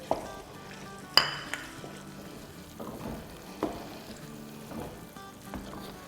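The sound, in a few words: roasting Karachi halwa with chopped almonds in a pan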